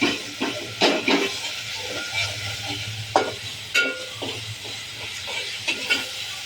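Chopped onions frying in a pan, sizzling with periodic scraping stirs and bursts of crackle over a low steady hum, close by, no talk.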